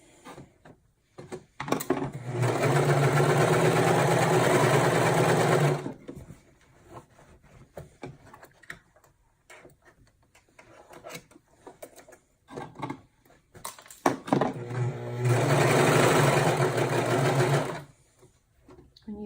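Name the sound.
sewing machine stitching a car trash bag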